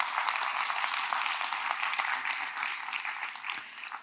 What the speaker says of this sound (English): Please give my panelists a round of applause before they leave the stage.